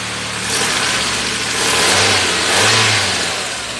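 A 2002 Ford Lynx car engine revs up and down in a couple of swells over a steady idle, loud and close, with no voices.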